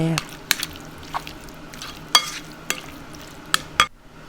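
Mushroom larb ingredients being stirred together with fish sauce in a bowl, giving scattered soft clinks and scrapes of a utensil, close and fairly quiet, with a few sharper taps.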